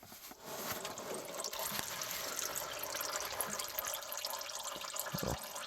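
Engine oil from a 2001 Ford F250 Super Duty 5.4 Triton drains in a steady, close liquid stream that pours continuously with a faint splash, punctuated by a couple of brief knocks near the end.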